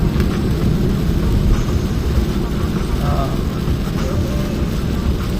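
Heavy rain pours down in a dense, constant wash of noise on SG Highway in Ahmedabad, India, with a low rumble of traffic or engines underneath.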